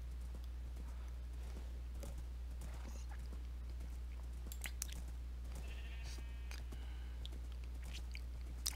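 Sheep in Minecraft give several short bleats scattered over a low constant hum, mixed with soft clip-clop footsteps and chewing-like clicks, fairly quiet and close.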